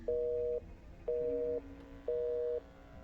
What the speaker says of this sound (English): I just wanted to call my mother, but it was busy.